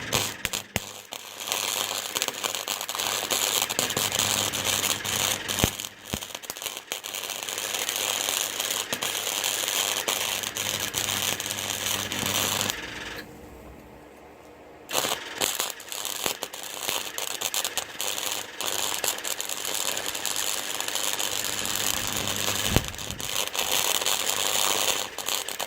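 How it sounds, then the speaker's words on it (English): Metal welding gives off a steady, dense crackling sizzle that runs close and loud for most of the time. It breaks off briefly partway through and then picks up again. "Welding."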